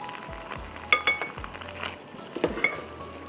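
Cumin seeds and half a cup of thin tomato puree being stirred in a pot for butter chicken biryani, with soft sizzling, a few sharp clinks of a spoon against metal and scraping, close and moderately loud.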